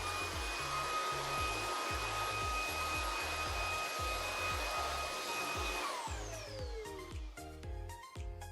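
A Shark Anti Hair Wrap cordless handheld vacuum cleaner fitted with a brush attachment runs with a steady high whine and a pulsing low thrum, then the pitch falls away as the motor winds down near the end.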